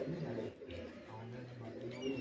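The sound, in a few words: pigeons cooing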